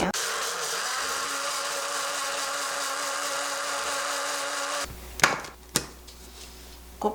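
A blender grinding rice with water whirs steadily at close range for several seconds, then shuts off, leaving a few clunks and knocks of the jug being handled.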